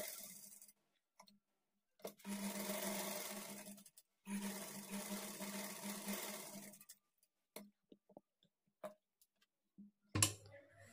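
A sewing machine stitches blouse lining to the main fabric in two loud bursts of rapid mechanical whirring, separated by a short pause and followed by scattered clicks and handling taps.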